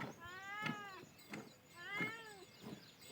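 A cat on a village farm meows several times in a row, drawn-out wavering cries recorded close and fairly quiet, with faint rustling between them.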